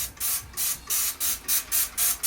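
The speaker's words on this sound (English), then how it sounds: "you're gonna just spray the grills" A spray bottle hisses in seven quick, even squirts of Dawn dish soap onto the grates of a Weber Q 2400 electric grill, each a short burst of mist, close up with brief pauses between.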